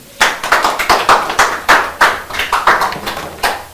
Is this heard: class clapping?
yes